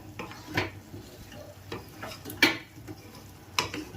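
Carrots are stirred in liquid milk in a cooking pot for carrot halwa, giving soft scraping taps at irregular intervals over a faint steady background, with no voices.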